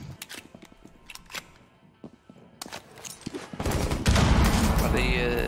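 Gunfire in the Rainbow Six Siege video game: scattered sharp shots early, then a dense burst of rapid firing building louder toward the end, with people talking over it.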